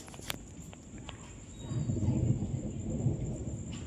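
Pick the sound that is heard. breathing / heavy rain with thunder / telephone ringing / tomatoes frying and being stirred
heavy rain with thunder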